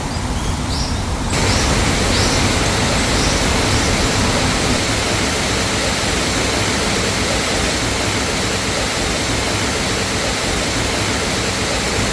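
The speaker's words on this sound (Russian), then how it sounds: "Вот это волшебное место с водопадом." A waterfall on Madeira roars steadily at close range, a dense, unbroken rush of water that fills the scene after a brief quieter start, with no voices present.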